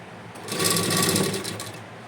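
A sewing machine stitches old leggings into a doormat in one close, steady burst of rapid needle chatter lasting about a second and a half, then stops.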